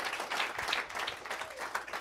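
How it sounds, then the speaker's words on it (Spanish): A church congregation applauds loudly and steadily, a dense wash of many hands clapping with a few cheers mixed in throughout. "Dale un aplauso al Señor bien fuerte"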